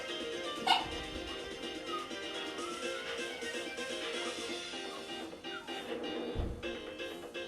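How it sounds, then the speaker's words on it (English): Faint dog barking and yipping sits low and partly masked beneath a steady wash of music and background noise, with one sharper bark standing out near the start. "no point me trying to talk while the dogs are barking anyway"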